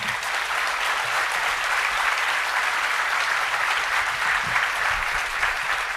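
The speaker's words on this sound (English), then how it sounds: "If I can have a round of applause for our briefers." Sustained audience applause after the Q&A at a Korean/Cold War annual government briefing, a steady dense wash of clapping that holds at an even level for the whole stretch with no voices over it.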